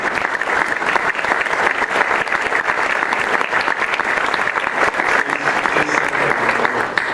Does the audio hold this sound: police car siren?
no